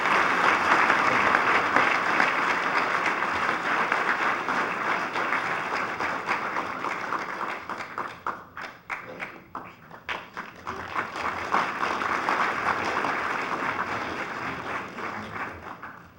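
Audience applause at a state-championship football banquet, sustained loud clapping from many people that dips briefly in the middle, swells again, then begins to fade.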